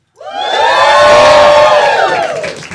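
A comedy club audience erupts in loud, sustained cheering and whooping, swelling quickly from silence and holding close and full for a couple of seconds before easing off slightly.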